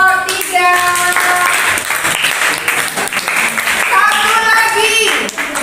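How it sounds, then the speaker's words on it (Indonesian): A classroom of students applauds for a presentation group, a dense burst of clapping that runs throughout at close range, with children's voices calling and talking over it. "Kasih aplaus untuk kelompok 3."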